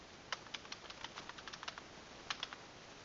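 Keystrokes on a computer keyboard while entering an SSH username in a terminal, a quiet irregular run of light clicks with a short pause before two final taps, no talk.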